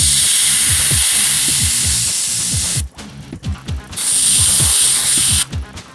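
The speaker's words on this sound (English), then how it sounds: "just airbrushing a little bit" An airbrush sprays paint onto an Ork Bomma model kit in two long bursts of steady, close hiss. A quick mechanical ticking rattles underneath, with short quieter gaps of clicking between the bursts.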